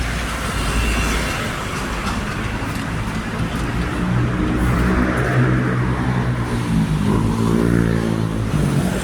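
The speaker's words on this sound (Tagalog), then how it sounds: "Ayan na yung MRT station." An MRT train rumbles nearby at a station with continuous low mechanical roar and clatter, rising slightly as it moves, with no talking heard.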